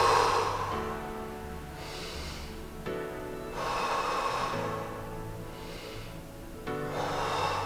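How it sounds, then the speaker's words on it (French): Deep, slow inhalations during a breathing exercise for idiopathic pulmonary fibrosis patients, several airy breaths rising and falling in turn over soft steady tones in the background. "Et on inspire."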